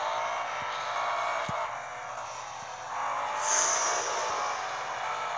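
A Nissan Altima races around a track at speed, its engine roaring steadily and fairly loud, with a brighter surge of engine and tyre noise about two thirds of the way through.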